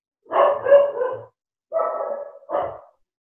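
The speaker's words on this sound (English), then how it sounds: "I think the dog's wanting to contribute as well, isn't it?" Dog barking nearby during an online call, three loud, drawn-out barks or howl-like yelps, the first longest, separated by short pauses, with no talk over them.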